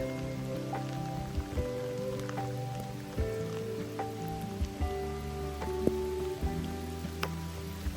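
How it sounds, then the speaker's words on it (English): Steady patter of rain drumming on a homestead roof in Alaska, with occasional louder drips and taps against a soft continuous hiss. "you can hear the rain on the roof here"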